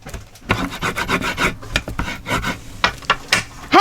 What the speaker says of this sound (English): flip it over this way and give it a good burnish